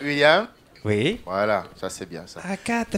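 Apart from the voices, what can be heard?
No everyday noise stands out behind the speech.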